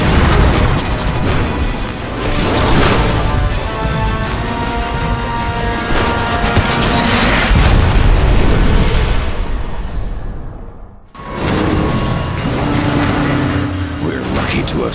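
A warship rams into a space station and explodes in Transformers: War for Cybertron, a loud, sustained roar of crashing and blasts lasting about ten seconds, then a short gap before further rumbling effects.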